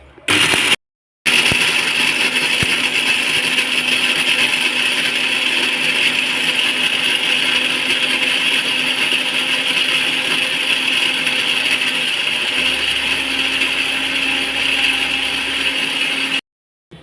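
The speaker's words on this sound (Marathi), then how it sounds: "हा बघा आता मी इथे खोबरा घेतलेला आहे मिक्सरला आणि आता तो बारीक करून घेते" An electric mixer grinder grinding dry coconut with no water, a loud continuous whirring drone running almost the whole time after a brief start-stop at the beginning, steady and close with no talking.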